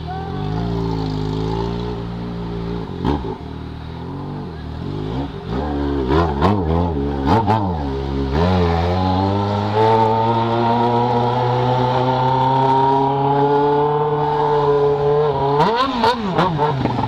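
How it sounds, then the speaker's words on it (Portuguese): An XJ6 motorcycle rides through heavy, congested road traffic, its engine droning steadily and revving up and down through rising and falling pitch sweeps, loud and close throughout, with surrounding traffic noise beneath. "Olha o trânsito que a gente vai pegar aí, tá pegando."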